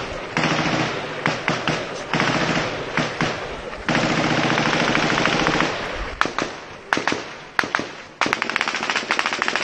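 Sustained bursts of automatic gunfire in Port-au-Prince, Haiti, crackling loud and dense, broken by sharper single shots and short volleys, with no talk over it.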